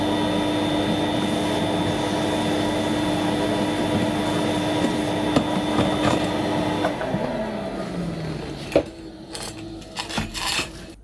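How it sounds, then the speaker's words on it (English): A vacuum cleaner working inside a Kia Rio 1.25 litre (2012-2017), a continuous motor whine with rubbing and scraping against the car interior, then sharp knocks and bumps as it shuts down. "I think I need to do a bit of vacuuming"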